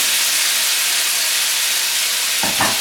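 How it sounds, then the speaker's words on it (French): Hot artichokes crackle and sizzle in a pan in a kitchen, a dense continuous hiss that is loud and close, with a couple of brief knocks near the end. "c'est ça la cuisine, hein. C'est le bruit aussi, c'est ce petit crépitement."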